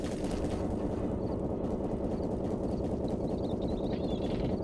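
Left 4 Dead 1 automatic gunfire heard from far away, a steady muffled rumble of rapid shots with the sharp crack dulled to a low, continuous roar, constant from start to finish.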